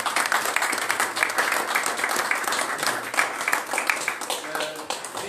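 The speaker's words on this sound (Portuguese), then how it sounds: "Peço uma salva de palmas para o nosso convidado." An audience applauds a guest after a debate, a sustained, dense patter of many hands clapping, moderately loud and steady, with a murmur of voices mixed in.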